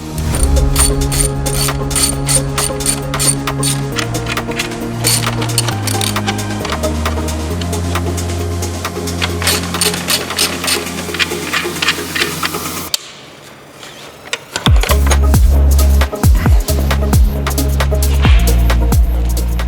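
Ratchet and power tool work removing 12mm bolts and hose clamps from the intercooler of a Subaru WRX, with steady clicking and whirring throughout, then a heavier, louder rattling passage near the end; no talk.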